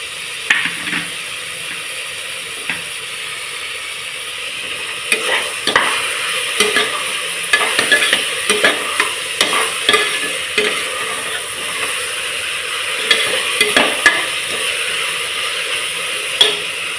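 Fresh mint sautés in a pressure cooker for mutton biryani, giving a continuous close sizzle. A ladle stirs against the metal pot with repeated scraping and clinking, busier in the second half.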